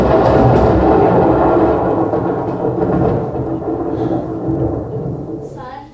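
A thunder sound effect played during a youth theatre camp stage show: a heavy, rolling rumble that holds for several seconds, then slowly fades, with a faint higher sound near the end.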